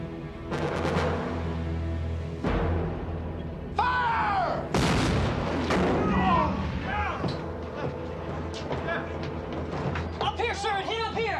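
Shells strike the armor of an ironclad warship in a 1991 film, with heavy booming impacts at irregular moments among loud shouting voices and clanging onboard noise.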